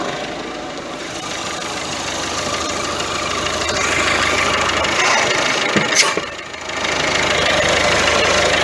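A Ford C-Max idles with a worn gearbox bearing, giving a steady rough mechanical drone and grinding whir, close and loud, briefly dipping and changing as the clutch is pressed and released before resuming.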